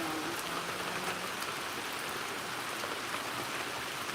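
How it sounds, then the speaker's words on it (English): Steady rain coming down outdoors, a dense, even hiss of drops on surfaces throughout, with a person briefly speaking over it. "Just laughing at the rain coming down."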